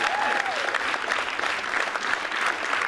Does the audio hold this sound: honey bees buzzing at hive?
no